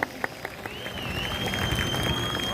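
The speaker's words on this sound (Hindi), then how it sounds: "जोरदार तालियां एक बार" An audience applauds at a birthday gathering in Sultanpur, a fairly low, dense wash of clapping with a few sharper claps at the start and a thin whistle-like tone gliding over the crowd noise.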